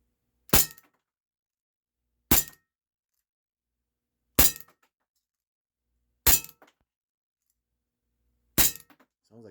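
Walther P38 4.5mm BB pistol fired indoors at a hard target, five sharp, loud cracks with a metallic clink spaced about two seconds apart, each ringing briefly before silence.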